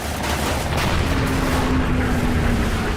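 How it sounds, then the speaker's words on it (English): A rumbling, crackling blast from an aircraft in aerial combat, sustained over a few seconds, loud and dense like a recorded explosion with debris. "As soon as you do it, there's an explosion."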